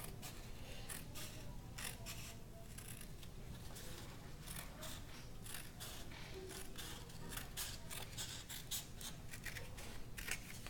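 Scissors cutting a paper square along its crease to make tangram pieces, with quiet repeated snips and paper rustle in an uneven rhythm, faint and close with no voices.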